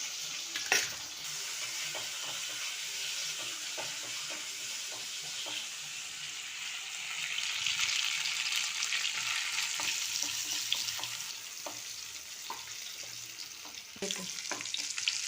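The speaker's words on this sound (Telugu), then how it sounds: "ఆనియన్స్ ఇలా బ్రౌనిష్ వేగాలి" Onions sizzle and fry steadily in a pan with curry leaves, a continuous close hiss that swells midway, punctuated by occasional stirring clinks, with no talking.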